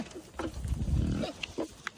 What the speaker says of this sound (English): coming out right now to feed the goats and the pigs